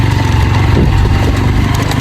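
A small motorcycle's engine runs loud and close on a broken, rough road to Pagari, a steady mid-revving drone that lasts throughout with no pauses.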